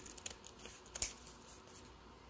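Older scissors cutting through paper while sewing a Christmas sack, a few quick snips and crisp cuts, close and moderately quiet with no talk.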